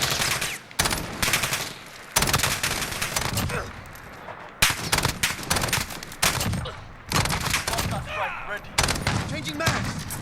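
STAR-21 DMR firing in Call of Duty Modern Warfare, with loud rapid two-round bursts in repeated volleys separated by short pauses.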